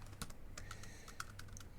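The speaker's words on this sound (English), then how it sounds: "I guess I'm playing around too much with the keyboard shortcuts" Rapid computer keyboard keystrokes tapping out shortcuts in quick succession, close and crisp, a steady patter of clicks with no talking.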